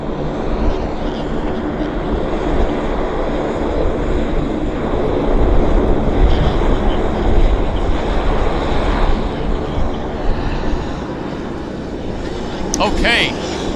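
A WestJet airliner on the active runway at Vancouver Airport gives a loud, steady engine roar that swells in the middle and holds, with voices talking over it.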